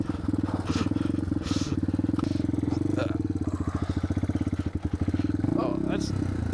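A 1987 Yamaha TW200 Trailway motorcycle rides over snowy, icy ground, its close, steady engine putter pulsing evenly until the tone shifts near the end as it goes into third gear.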